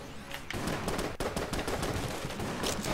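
Rapid video-game gunfire from Exit the Gungeon's bullet-firing gun, a dense continuous barrage of cracks and shots with a brief gap near the start, loud and busy throughout with no talking.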